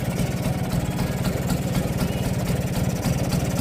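A Vespa scooter with a carburetor being tuned idles close by in a fast, even putter, its steady knocking pulse loud and continuous throughout.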